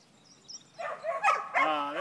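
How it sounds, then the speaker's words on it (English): Dogs bark and yip in the background on a warm day, a few faint, short outbursts over low outdoor ambience. "You can hear the dogs in the background"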